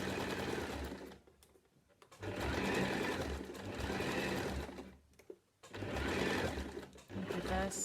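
A sewing machine stitches in close, loud bursts while a face mask seam is sewn with reverse stitching. Three runs of steady motor whir are separated by short pauses.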